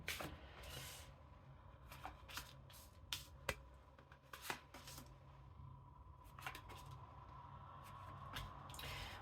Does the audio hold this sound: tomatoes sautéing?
no